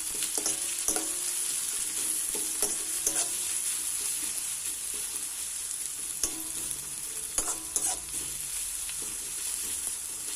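Vegetables with cabbage and capsicum frying and being stirred for street-style Chinese noodles give a constant sizzle of hot oil, punctuated by irregular scraping and clattering utensil strokes against the pan, close up with no talking.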